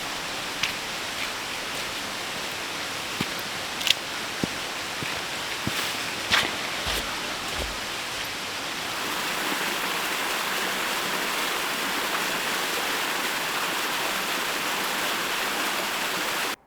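Steady broadband rush of a waterfall in the Blue Mountains, swollen after rain, heard continuously with no talk, a few faint knocks and taps in the first half.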